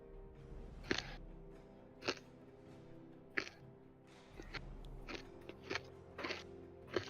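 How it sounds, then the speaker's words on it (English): Someone chews a mouthful of Nerds candy, giving sharp crunches at irregular intervals over a low steady background hum, close to the microphone, with no talking. "Apologies if you can hear the crunching. I just ate a box full of nerds."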